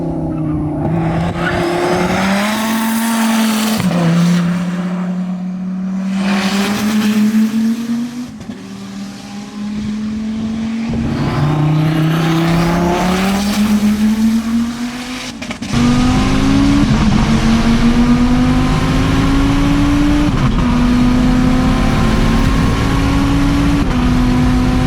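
A 1,300-horsepower Chevrolet Corvette ZR1 at a racing event, engine revving hard and ripping through repeated rising gear pulls, loud and close, with tire squeal between shifts.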